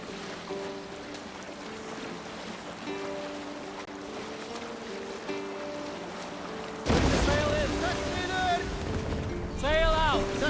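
A Viking longship sails the open sea in Assassin's Creed Valhalla, with steady wind and water rushing beneath a soft musical drone, then a surge of splashing waves and creaking near the end.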